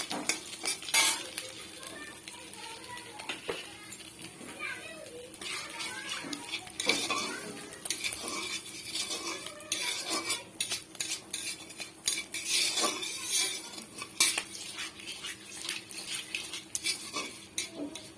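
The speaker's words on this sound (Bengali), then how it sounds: "দেখো প্রথমে আমি জিরেটা ফোড়ন দিয়ে দিলাম।" Cumin seeds frying in oil in a pan, with a soft sizzle beneath repeated metallic scrapes and clinks of a utensil stirring against the pan, close and busy throughout.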